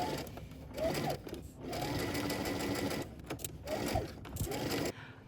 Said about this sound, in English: we're going to head to the sewing machine. We're going to stitch these together